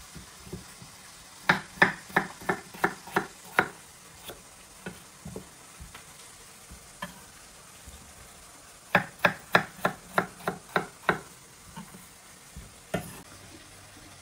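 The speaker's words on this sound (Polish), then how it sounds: "I teraz kroję ziemniaki." A knife chops potatoes on a cutting board, two quick bursts of sharp, evenly spaced knocks with scattered single cuts between, close and distinct over a quiet background.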